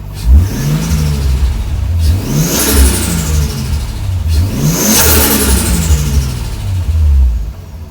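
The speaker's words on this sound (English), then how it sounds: "maybe when I rev it a couple times, it'll kind of catch up" A Nissan 240SX S14 with a swapped RB20 engine, running lean and going flat, revs twice in loud close rising-and-falling sweeps, with no talk over it.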